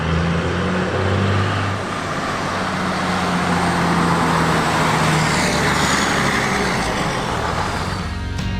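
A 1994 Dodge Ram 2500 with a 12-valve Cummins diesel, five-speed manual and four-wheel drive, heard from behind as a steady, loud idle and turbo whine, with a brief rise in pitch near the end.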